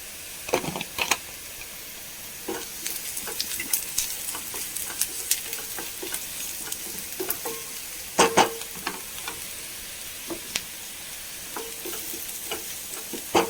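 Crushed chili frying in a pan for a boiled-beetroot stir-fry, a faint continuous sizzle broken by irregular scraping and tapping strokes of a spoon, close and without speech.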